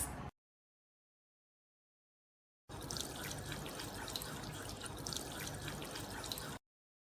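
Tap water runs steadily for about four seconds as hands are washed under it, a close, even splashing trickle with silence before and after.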